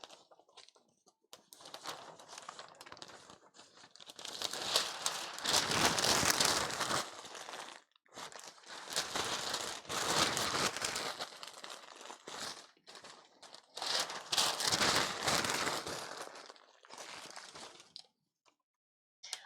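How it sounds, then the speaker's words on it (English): Crinkly material rustled and crumpled in bursts while a cosplay headdress foundation is assembled, several loud, close crinkling spells separated by short pauses, with no talking. "I just wanted to get some of the crinkling out of the way before I, you know, lost your guys' ear holes"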